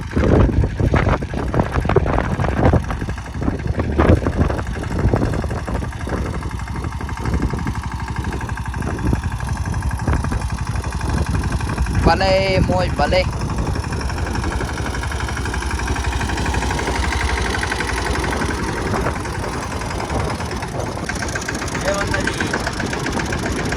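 A new Mahindra Yuvraj tractor engine runs steadily on a farm during rain-season field work, a continuous mid-pitched rumble heard close throughout, with people talking over it.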